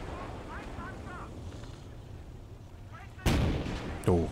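Tank cannon blasts in the WWII game Call to Arms – Gates of Hell: Ostfront, two heavy booming shots near the end over a rumbling battlefield backdrop, with a voice talking earlier.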